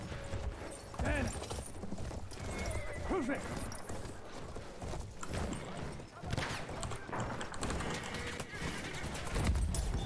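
Horse galloping with clip-clop hoofbeats and a whinnying neigh in the Battlefield 1 first-person shooter, heard close amid battle noise, with someone talking over it.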